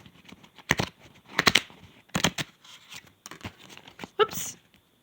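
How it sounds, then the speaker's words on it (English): Tarot cards shuffle in quick riffled bursts, soft and close, separated by brief pauses and light handling taps. "so I get the card shuffled here"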